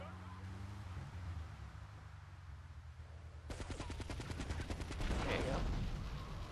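Rapid bursts of video-game gunfire from Grand Theft Auto 3, starting midway and hammering on in a dense, loud automatic rattle after a quieter stretch of engine-like rumble.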